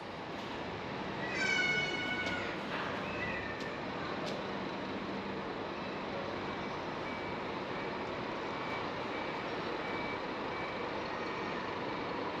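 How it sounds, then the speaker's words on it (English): A public bus pulls away from a stop on a return run to Queenscliff, its reversing beeps rising clearly near the start before the broad engine and road rumble fades into steady outdoor traffic noise, with no talking. "And there goes my bus, making a return journey all the way back to Queenscliff."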